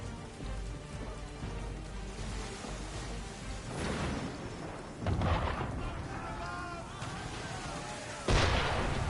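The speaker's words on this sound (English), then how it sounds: "Why is he shooting at us?" Booming cannon fire aimed at a ship in Assassin's Creed III, a few heavy blasts over constant rain-like noise and crackling, with the last shot loudest and closest.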